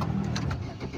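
Diesel Maruti Swift Dzire engine cranking and catching with a rough, steady mid-pitched rumble that carries through the whole short moment, close by, with no voices.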